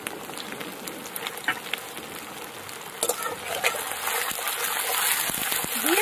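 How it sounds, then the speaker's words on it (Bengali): Chopped onions fry in hot mustard oil in a wok with bay leaf and dried chillies, a steady bright sizzle that grows louder over time, broken by occasional stirring clatters. "পেঁয়াজটাকে একদম ভালো করে ভেজে নিতে হবে লাল করে"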